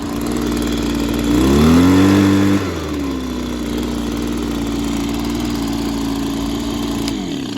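Two-stroke engine of an Echo PB-265LN or 2005 Stihl BR420C Magnum backpack blower with leaking fuel lines, running after a cold start: close, loud steady drone with one brief rev that rises and settles back to idle.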